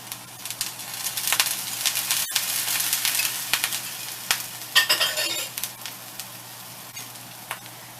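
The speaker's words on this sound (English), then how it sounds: "then you just fry them up how you normally would fry them up so they get golden brown" Rehydrated potato hash browns fry in a pan with a steady close sizzle throughout, broken by occasional scrapes and stirring clatter from a utensil.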